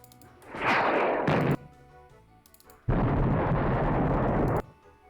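Two loud explosion sound effects from the Roblox video game, each a sudden broad roaring blast sustained for a second or more, the second one longer, with a quiet gap between them and no talk.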